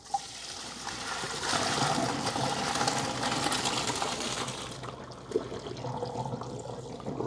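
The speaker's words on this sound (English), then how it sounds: "let's go ahead and drain our pasta" Cooked pasta draining from a pot into a colander, a steady rushing pour of water that runs for several seconds, then stops before a few faint kitchen clatters.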